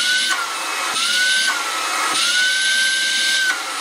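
Dibea F20 MAX cordless stick vacuum cleaner running in bursts, a whining motor tone that drops and restarts several times over a few seconds, close and fairly loud with no talking.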